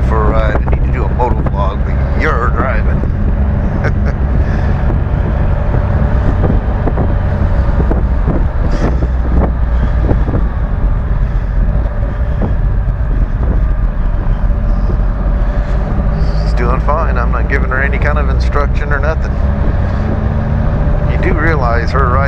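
Ride aboard a 2014 Can-Am Spyder RT three-wheeled motorcycle, with steady engine drone and heavy wind rush throughout, punctuated by bursts of speech over the road noise.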